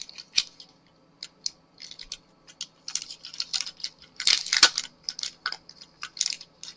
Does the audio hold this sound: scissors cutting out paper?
yes